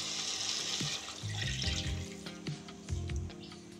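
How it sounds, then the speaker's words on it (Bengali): Water is poured into sizzling fried masala for a katla fish roast gravy, a close splashing pour with brief bursts of hiss and bubbling as the liquid hits the hot pan. "এখন আমি গ্রেভি করার জন্য জল দিয়ে দিচ্ছি।"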